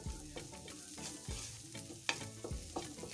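Spring onions being stirred in hot oil in a pan while cooking a beef stew and vegetable rice, a steady sizzle with scraping stir strokes recurring every half second or so, close and moderately loud, no talking.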